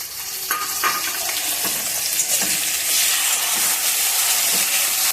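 Chopped tomato and a ground paste of cashew, green chilli, ginger, coriander and cumin frying in oil with browned onions, a loud dense hissing sizzle throughout with faint stirring knocks, no speech.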